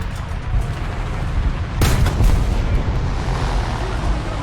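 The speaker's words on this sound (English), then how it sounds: "Oh, I'm getting shot at by a yak" Cannon fire from a Yak-9K fighter plane in War Thunder, heard as a dull, muffled burst of shots over constant rumbling engine noise, inside a KV-1 m1942 tank.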